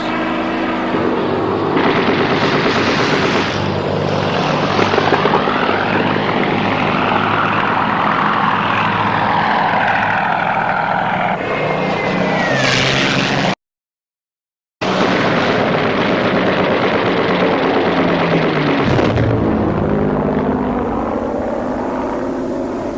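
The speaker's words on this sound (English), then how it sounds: "There, the Mustangs were present in force, and they engaged in a savage battle with the German fighters." Heavy, continuous droning roar of WWII aircraft engines, B-17 bombers and Mustang fighters in an aerial battle with German fighters, loud and sustained with a brief silent gap midway; no distinct gunfire stands out.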